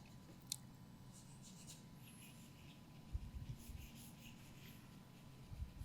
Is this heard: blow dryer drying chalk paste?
no